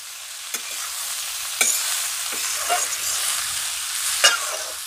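Bitter gourd bhujia frying in a pan gives a steady hiss, broken by a few sharp spoon scrapes and knocks as it is stirred, close by with no talking.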